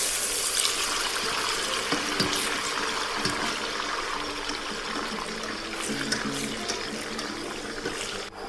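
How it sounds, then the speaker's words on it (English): Water pours steadily and loudly into a hot pan of chopped chili sauce (duojiao) with sizzling spatter, a continuous wash of liquid sound during a Hunan-style vegan stir fry of soft tofu. "Then we can add in a bit of water."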